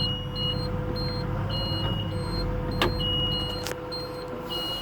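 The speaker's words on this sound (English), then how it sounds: "So it's beeping at me saying, hey, that thing's gonna fall off" Intermittent high electronic warning beeps from an Engcon tiltrotator on an excavator repeat in short bursts, signalling an unsecured attachment, over a steady, rumbling engine drone, with a couple of sharp clanks.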